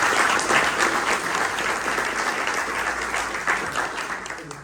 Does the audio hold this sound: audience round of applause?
yes